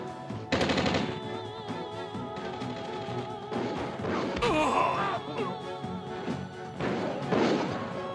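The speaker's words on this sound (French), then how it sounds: "Ah c'est un sniper, je viens d'entendre le bruit." Sniper rifle shot in the Commandos 2 video game, heard as a sharp crack standing out within a dense bed of game noise, gunfire-like bursts and sound effects; no talk over it.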